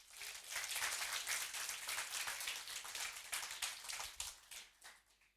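A congregation at an Easter church service applauds the children, a quiet, distant patter of many hands clapping steadily for about five seconds before tapering off.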